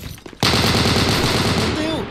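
Sustained automatic fire from an M1919A6 machine gun shot from the hip in the video game Unit 1968, a dense rapid-fire burst that kicks in abruptly after a brief quiet lead-in and keeps up loud and steady to the end.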